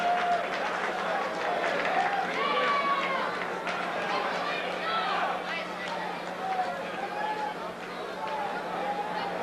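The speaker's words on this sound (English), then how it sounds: "The crowd loves it." A boxing arena crowd roars and cheers after an eighth-round TKO stoppage, a broad, sustained wash of crowd noise with a commentator talking over it.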